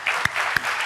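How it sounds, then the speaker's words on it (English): Audience applause at a climate action talk for a G20 sherpa's leadership, brief even clapping with a few sharper claps standing out. "Please join me in applauding Mr."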